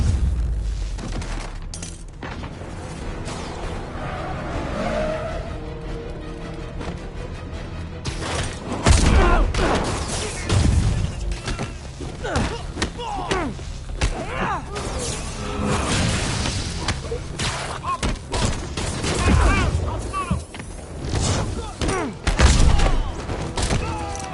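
Spider-Man video game combat: bursts of gunfire, booming thuds and whooshes, loud and dense and irregular, with shouted voices from game characters mixed in.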